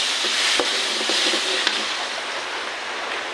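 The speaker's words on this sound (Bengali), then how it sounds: "পেঁয়াজগুলা কষানো বসাই দিচ্ছি" Chopped onions sizzling in a pan on a wood-fired stove, a steady hissing fry with a couple of sharp clicks of stirring, close up and with no talk.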